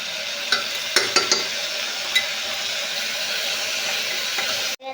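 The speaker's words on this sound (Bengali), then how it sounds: "একটু হলুদ দিয়ে দিচ্ছি, লবণ, ডালটি ভেজে নিচ্ছি" Dal frying in a pan with turmeric and salt, giving a continuous close hiss of sizzling oil with a few sharp clinks of a spoon early on.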